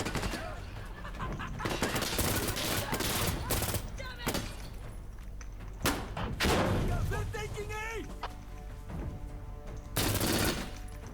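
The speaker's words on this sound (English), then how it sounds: "This thing is a fucking minigun." A minigun fires in Insurgency: Sandstorm, loud sustained rapid-fire bursts with heavy booming shots and other battle gunfire, dense and near throughout.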